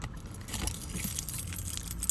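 Keys for a Nissan Pathfinder jangle and clink close by in bright metallic bursts, with a faint low hum in the background.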